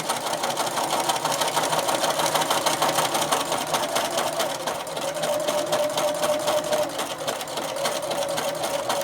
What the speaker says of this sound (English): I like to use a open toe toe foot so that I can see exactly where I'm stitching